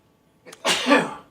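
A single sneeze, close and fairly loud, with a short intake just before the burst, heard alone with no talking.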